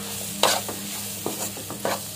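Potatoes being stirred in a pan while making batata vada: a few sharp spoon scrapes and clatters spaced irregularly over a low, steady pan background, close by and moderately loud, with no voices.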